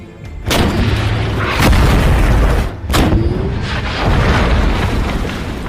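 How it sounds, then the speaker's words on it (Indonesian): Tank cannon fire at a target in a war film: loud booming blasts near 0.5, 1.6 and 2.9 seconds, each a sharp broadband crack with a rumbling tail, over continuous low engine-like rumble, with no talk. "Sebelum bertempur, mereka menguji tank baru tersebut dengan menembak target."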